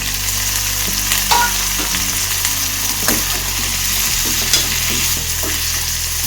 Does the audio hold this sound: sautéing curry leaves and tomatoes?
yes